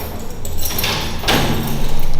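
A door slides or swings open with a couple of scraping, rustling bursts, close by and fairly loud.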